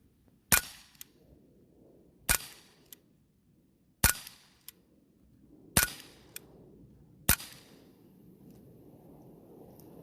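Gletcher TT airsoft pistol converted to blowback fires five BBs, each a sharp, loud crack with a clacking slide, spaced about every one to two seconds over a low background hiss.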